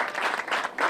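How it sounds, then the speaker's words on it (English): A crowd at a Boston National Night Out community awards event applauds, with steady, dense clapping heard up close throughout. "How about a round of applause?"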